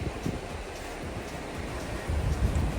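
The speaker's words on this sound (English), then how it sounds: "it's very, very windy" Strong, steady wind roars and buffets the microphone on a Patagonia hiking trail near a bridge, with gusts swelling louder toward the end.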